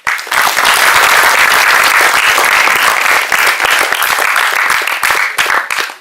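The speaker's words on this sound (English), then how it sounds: "Thank you for clapping" A large audience claps loudly and continuously after a speech, a thick, even wash of applause that starts abruptly and holds at full strength for several seconds before cutting off.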